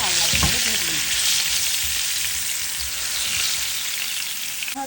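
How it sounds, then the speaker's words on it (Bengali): Potato pieces frying in hot oil with turmeric and salt, a loud, close, continuous sizzle with occasional scrapes of a stirring spoon against the pan. "সামান্য হলুদ দিব আর সামান্য পরিমাণে লবণ দিয়ে আলুটা আমি একদম লাল লাল করে ভেজে নেব।"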